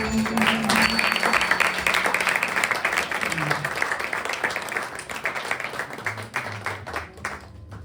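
Audience applause at a live stage performance following a sung piece, a dense steady wash of clapping that holds for several seconds and thins toward the end, with a voice speaking over it.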